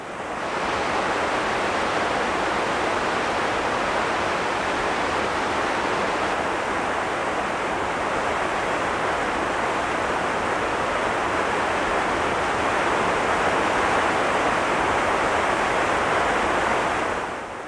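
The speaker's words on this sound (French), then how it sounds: "Et juste derrière moi, dans la cascade de Stigfossen," Stigfossen waterfall in Norway gives a steady, loud roar of rushing water, a dense broadband hiss that holds unchanged throughout, close by and with no voices.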